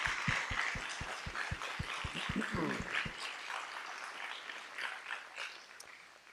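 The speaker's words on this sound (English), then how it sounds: "If we could offer another round of applause for our speakers" Sustained applause from an audience at a fifth grade graduation ceremony, with dense overlapping clapping that stays fairly even throughout and a few sharper claps standing out near the start.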